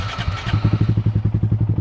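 A 2023 Honda Grom motorcycle pulling away on a short test ride, its small single-cylinder engine thumping in a fast, even pulse close by after a brief rev at the start.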